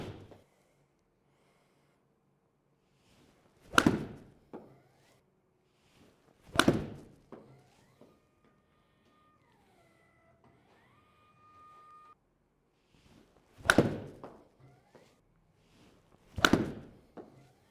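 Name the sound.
golf shots hit with Bettinardi CB24 and MB24 irons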